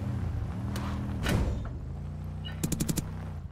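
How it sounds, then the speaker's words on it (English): Gunshots fired by a fleeing suspect during a police chase, heard as a couple of sharp bursts, including a rapid string of four or five cracks near the end, over a steady engine drone. "Suspect is shooting again."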